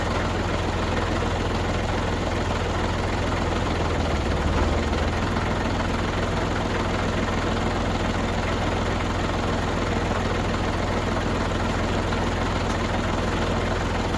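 A New Holland 757C backhoe's tractor engine idles steadily in a tight work area, a constant low droning rumble that holds even and close throughout with no voices.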